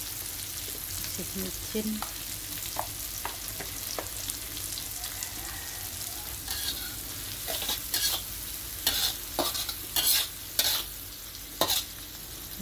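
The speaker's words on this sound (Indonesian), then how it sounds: "Mulai numis teman-teman ya" Water spinach stir-fried in a pan for a Balinese-style tumis kangkung, with a steady sizzle and the irregular scrape and clatter of a spatula growing busier toward the end; a voice speaks once, briefly.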